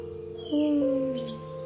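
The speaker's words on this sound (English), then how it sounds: "Is that the owl?" An owl crying: one sustained, wavering, tonal wail that starts abruptly and slowly falls, heard alone against a quiet background.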